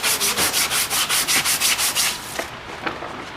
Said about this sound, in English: just get 80 grit sandpaper